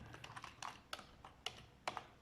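Passwords typed on a computer keyboard while logging into Windows 7: a quiet, uneven series of separate key clicks, some struck harder than others, with no talking.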